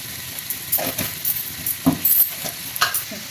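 Mixed vegetables and peas are stirred in a hot pan for a vegetable dum biryani, giving scraping stirs and soft clatter over a light sizzle, close and fairly quiet, with no talking.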